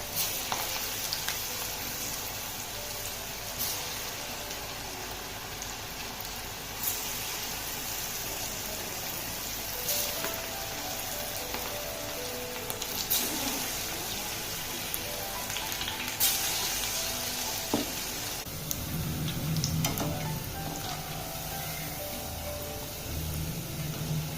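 Moong dal pakoda batter drops into hot oil on a low flame, a soft continuous crackling sizzle with occasional clinks and bubbling swells, no voices.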